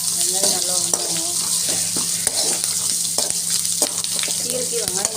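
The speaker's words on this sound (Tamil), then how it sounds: "வெங்காயம் நல்லா வணங்கணும்." Onions fry in a pan for a stem amaranth stir-fry, a loud continuous close sizzle broken by repeated scraping stirs and clinks.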